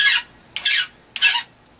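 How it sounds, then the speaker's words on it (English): A file rasps across the end of soft aluminum tubing in three separate strokes, each a bright, gritty scrape. The strokes are evenly paced, close and loud, with no talking. "First thing I want to do is file off the end of this tubing, make sure it's flat."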